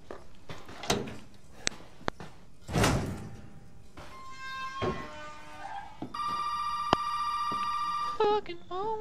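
A telephone in a video game rings with a sustained electronic trill that starts partway through. Before it come thuds, knocks and door-like clunks, and it cuts off near the end.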